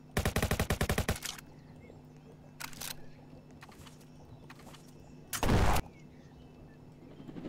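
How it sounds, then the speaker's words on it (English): Rapid automatic gunfire from the Roblox game Jailbreak opens with a dense loud burst, then scattered fainter single shots and a brief heavy blast later, all without talk. "Do you hear gunshots?"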